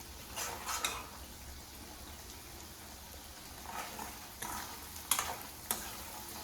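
Kerala-style fish pickle frying in a pan after vinegar is added, a low steady sizzle under scattered metal clicks and scrapes of a spoon against the pan, fairly faint and close.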